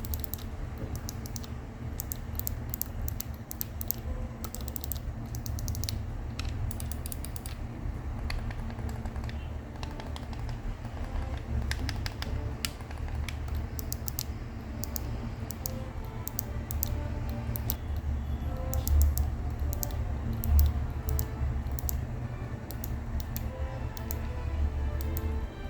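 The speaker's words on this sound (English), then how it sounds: "The buttons have clicky switches, but it is different from regular clicky switches from other controllers." Clicky switch buttons on a Flydigi Apex 2 gamepad pressed in a fast, steady stream of crisp ticks, close up over a low hum, with no talk.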